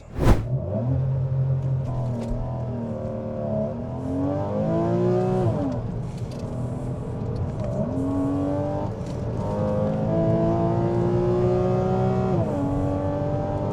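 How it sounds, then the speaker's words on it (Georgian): A Porsche bought from a Copart auction, driven on a test drive, accelerates hard through several gears, its engine note climbing and dropping with each shift, loud and close throughout. "მათე შემოგთავაზებს უკვე თავისი საყვარელი პორშეს ტესტ დრაივს"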